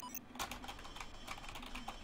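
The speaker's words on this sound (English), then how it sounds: "That is actually what I'm typing" Keyboard typing in the video game SUPERHOT: a rapid, irregular run of light clicky keystrokes, fairly quiet, continuing steadily for about two seconds with no talking.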